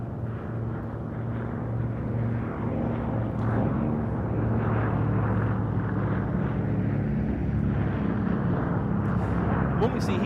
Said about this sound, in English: an Anson T-21 trainer that was built at Eden in Leeds in 1950